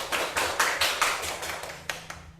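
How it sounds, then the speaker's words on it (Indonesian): Classroom applause for a student group: a run of quick, even hand claps from several people, fairly close and steady, fading out at the end with no talking. "Tepuk tangan untuk kelompok."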